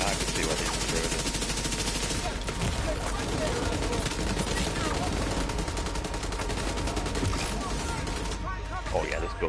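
Rapid automatic gunfire rattles continuously in The Division 2, dense bursts of shots filling the scene loud and close, with a player's voice talking over the shooting.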